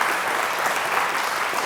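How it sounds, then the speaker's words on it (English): Brief, dense applause from an audience at the Lichfield Live Community Awards 2021 honouring Chase Terrace Academy Food Bank, a loud, even wash of many hands clapping together. "So another round of applause for Chase Terrace Academy Food Bank."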